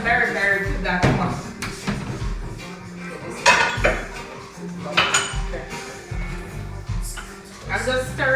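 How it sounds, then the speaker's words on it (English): A spoon scraping and clanking around a pot of Ethiopian lentil stew seasoned with berbere, the metallic knocks repeating irregularly and close by while people talk over it. "I'm just stirring this one so that it doesn't burn."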